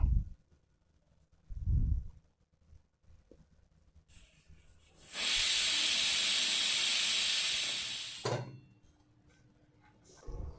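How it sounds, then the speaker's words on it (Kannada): A pressure cooker cooking fenugreek-leaf rice lets off a loud, steady rush of hissing steam for a few seconds, with soft clunks before and after. "ಎರಡು ವಿಷಲ್ ಬಂದರೆ ಆಯಿತು"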